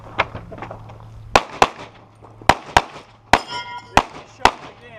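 Sharp pistol gunshots at a USPSA practical shooting match, about eight loud cracks in quick uneven bursts, some with ringing metallic clangs, over a low steady hum.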